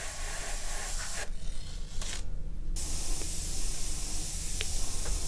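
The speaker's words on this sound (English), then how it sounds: "I'm just killing the edge with my airbrush and my pearl black" Airbrush spraying pearl black paint along a taped edge in a custom paint job, a soft steady airy hiss that cuts out briefly twice before resuming continuously.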